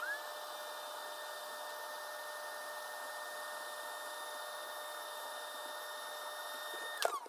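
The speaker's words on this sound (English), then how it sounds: "if you hover the hoover over and just disturb this dust gently, then it should suck it all in" Hoover held over an Acer Nitro 5 laptop to suck out dust, a steady close whining drone with a tonal hum that runs unbroken, then cuts off with a brief clunk near the end.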